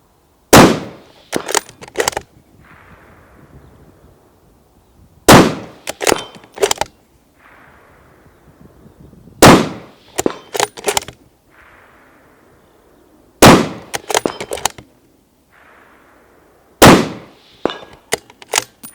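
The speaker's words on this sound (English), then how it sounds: "that is a super comfy rifle to shoot, and it is a super fast rifle to shoot" Daniel Defense Delta 5 Pro bolt-action rifle in 6.5 Creedmoor fires five loud, sharp shots spaced several seconds apart, each followed by a brief clatter of bolt cycling and a fading echo.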